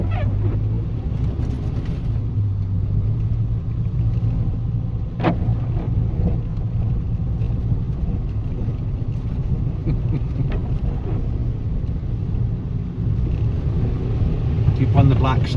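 A Citroen Saxo's engine pulls steadily at light throttle while rolling carefully downhill, a continuous low in-car drone with road rumble and wind underneath, and someone talking over it.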